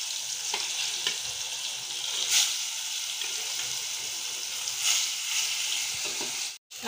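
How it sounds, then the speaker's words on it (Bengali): Kalibaus fish pieces frying one by one in a smoking hot wok: a continuous dense sizzle and hiss with a few louder spattering bursts as pieces are added, and no talking. "এখন আমি একে একে মাছগুলো দিয়ে দিচ্ছি।"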